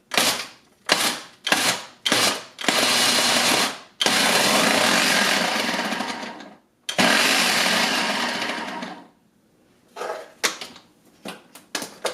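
A Ninja Kitchen System Pulse processing chocolate chip cookie dough with brown and white sugar, loud whirring motor bursts, several short pulses then longer runs, with quiet gaps between.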